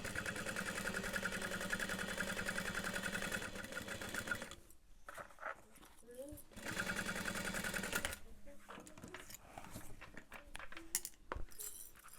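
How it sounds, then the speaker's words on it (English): Sewing machine stitching a pocket onto a backpack at a 3/8 inch seam, with steady rapid needle chatter in bursts separated by pauses and handling clinks, the motor starting and stopping several times. "So we're going to sew that on at 3/8 of an inch."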